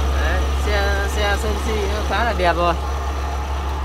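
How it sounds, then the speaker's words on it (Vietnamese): A 2003 Suzuki seven-seat van idling smoothly, its engine a low, steady hum running continuously beneath someone talking close by. "Đấy, tình trạng máy nổ rất là êm nhá"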